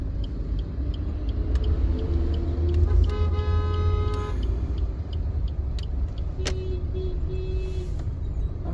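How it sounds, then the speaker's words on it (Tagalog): Car horns honk in congested two-lane traffic, with a short toot and then a longer repeated blast over a low engine rumble, followed by a couple more brief honks. "busina ka ng busina,"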